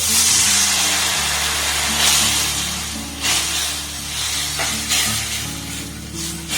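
Ground cumin and coriander frying and being stirred in a pan with a splash of water, a steady loud sizzle with soft scraping stirs and occasional hiss bursts, no voices.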